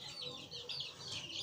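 Chickens raised by a women's project cluck softly in short bursts, close to the listener, over a low background hum.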